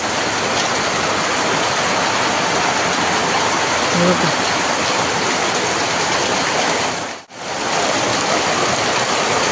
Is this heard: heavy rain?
yes